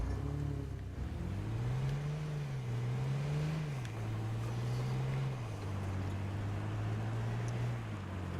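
A vehicle engine in the H1Z1 battle royale game drones steadily and close, with its pitch rising and falling through gear-like shifts across the whole stretch, alone with no talk.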